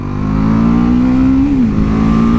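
A BMW 310 GS motorcycle engine revs steadily and loudly close by, its tone holding high, briefly rising and then dipping slightly before settling.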